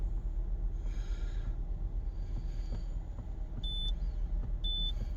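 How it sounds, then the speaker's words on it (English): The front wheels of a 2004 Citroen C2 with a front right wheel sensor fault are driven in a workshop: a steady low engine and drivetrain rumble, close and constant, with a couple of brief electronic beeps near the end. "we're going to drive the front wheels"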